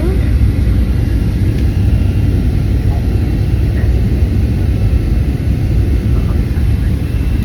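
Passenger aircraft landing at night in Nicaragua, heard from inside the cabin as a steady loud engine and air roar that stays constant throughout, with talking over it.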